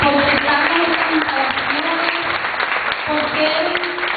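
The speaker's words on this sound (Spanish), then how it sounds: "yo les pido un fuerte aplauso por estar en estas instalaciones" Steady applause from an audience, dense clapping that holds at an even level throughout, with a voice faintly heard underneath.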